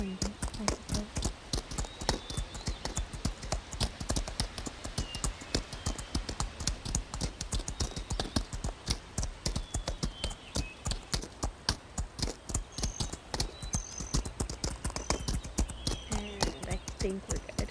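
Horses' hooves clip-clopping in a VR roleplay game, a dense, steady run of close, sharp hoof taps lasting throughout, with faint tonal sounds scattered above.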